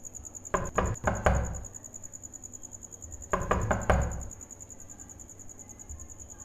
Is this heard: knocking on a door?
yes